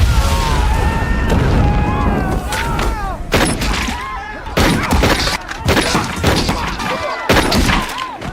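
Bomb explosion from the action film The Beekeeper: loud booming blasts and crashing debris with shattering bursts, layered over tense music that keeps going between the hits.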